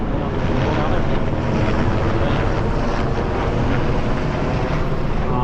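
During a military exercise, an aircraft flies overhead and produces a loud, continuous, even roar that holds steady throughout. Jet fighters have been passing in succession.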